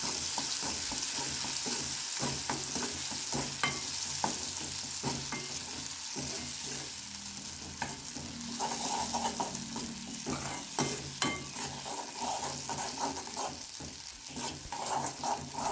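Mustard seeds, curry leaves and chillies frying in oil, a soft steady sizzle with scattered crackles and occasional stirring clinks, fairly quiet, with no talking.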